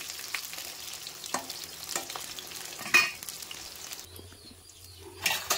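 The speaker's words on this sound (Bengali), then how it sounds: "এবার আমি পটলগুলোকে ভেজে নেব।" Pointed gourd (potol) frying in hot oil in a home kitchen, a steady low sizzle with occasional stirring scrapes and clinks, moderately quiet with no talk.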